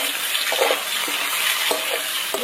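Garlic paste and chopped tomato being stirred together with soft, mashed potatoes in a pan, a few scraping strokes over a faint sizzle, close and alone with no voices.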